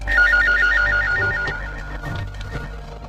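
A telephone rings in repeated bursts of a bright electronic trill, clear and fairly loud over a low background hum, with no talking.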